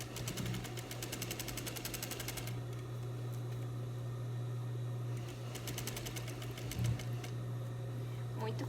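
Sewing machine topstitching the lining of a red viscose dress, fast needle bursts that start, stop and restart over a steady motor hum.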